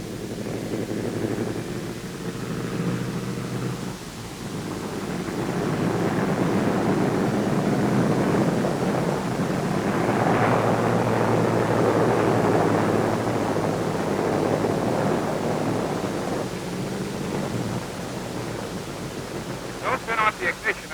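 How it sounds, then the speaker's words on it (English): Heavy four-engine B-17 Flying Fortress bomber idling and spooling down after a mission, a broad continuous rumbling roar that swells and slowly fades, with faint fluttery knocks near the end. "Don't turn off the ignition until the engines will stop turning over"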